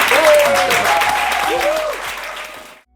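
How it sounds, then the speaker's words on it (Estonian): Audience applause at a comedy quiz show, a dense burst of clapping close by that fades out toward the end, with a voice speaking briefly over it. "Teeme suure aplausi küsimuste leitserile Karl-Laari Varma."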